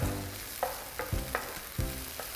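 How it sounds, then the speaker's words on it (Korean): Green onions and sliced garlic sizzling gently in oil in a pan, a continuous soft crackling fry punctuated by several light scraping stirs, close and fairly quiet with no talking. "자글자글 볶아지는 파 소리 들리시죠?"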